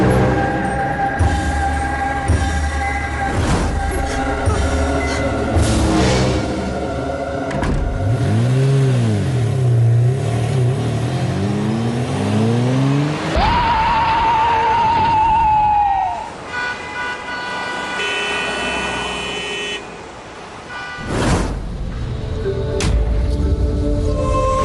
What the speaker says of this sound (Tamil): வண்டியை சீக்கிரம் ஸ்டார்ட் பண்ணு